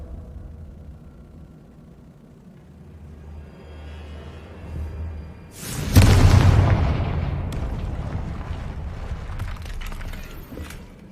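A Confringo blasting spell in the video game Hogwarts Legacy goes off as a sudden loud explosion midway through, its booming burst followed by a long rumbling, crackling decay after a quieter low hum.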